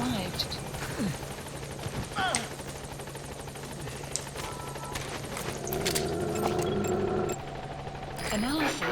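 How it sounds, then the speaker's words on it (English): Rotor drone from the support helicopter in Metal Gear Solid V: The Phantom Pain hums steadily through the scene. Occasional sharp clicks and bursts cut in, and voices talk over it. "Support helicopter has arrived."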